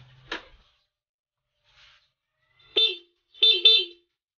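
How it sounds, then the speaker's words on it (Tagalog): A few short, thin beeps from the stock horn of a Honda Beat FI scooter sound after a brief pause, the last two close together, in an otherwise quiet space. "Paparinig ko muna yung stock horn nya."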